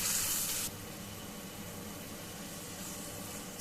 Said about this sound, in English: this masala I need to fry very well till the oil separates